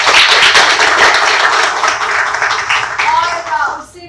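Loud, close audience clapping greets a drama drafting session with lyricist A.M. Turaz, dense and continuous before thinning out, with a voice briefly audible toward the end.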